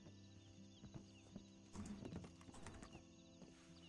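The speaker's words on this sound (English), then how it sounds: "Horse!" Horse hooves clip-clop in a WildRP Red Dead game, an irregular run of close hoof beats with a brief whinny-like burst in the middle, no talk.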